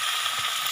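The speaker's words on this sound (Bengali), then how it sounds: "আর পেঁয়াজ একসঙ্গে দিয়ে আলুটা হালকা করে ভাজা হচ্ছে" Potatoes, onion and tomatoes frying in hot oil, a brief, dense and fairly loud sizzling hiss that stays even throughout with no voices.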